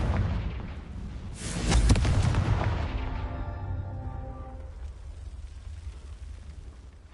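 A Confringo blasting curse in a Harry Potter video game sets off a single heavy explosion: a building rush peaks in a deep boom. It is followed by a long, ringing, rumbling tail that slowly fades away.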